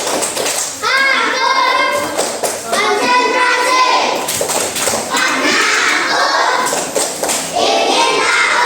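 Children clap together in a quick rhythmic pattern, a burst of claps following a short pause, with young voices chanting along throughout.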